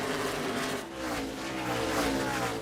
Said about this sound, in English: he just drove right around Joey off of turn 4 down the front straightaway